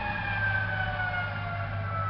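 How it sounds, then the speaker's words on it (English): An ambulance siren wails steadily and fairly loudly with a sustained, slightly wavering tone, continuing without a break and with no one talking over it. "Ambulance gone."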